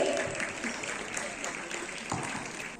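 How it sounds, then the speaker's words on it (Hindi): Crowd applause greets the chief guests at a school's annual sports day, a sustained outdoor clapping that stays fairly even and moderately distant, with a voice speaking over it. "तालियां बजती रहनी चाहिए, तालियों में कमी नहीं होनी चाहिए।"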